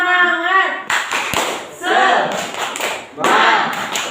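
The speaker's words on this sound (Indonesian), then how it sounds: "Tepuk semangat dulu dong biar semangat." Classroom of fourth graders doing a rhythmic spirit clap together during a practice lesson, loud patterned group claps and thumps mixed with children's voices and chanting.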